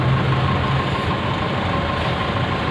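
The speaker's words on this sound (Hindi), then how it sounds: "60 HP का ट्रैक्टर है ये।" A 60 HP tractor, a 2016 model for sale at a tractor market in Fatehabad, Haryana, runs with a steady loud low rumble and constant mechanical drone throughout.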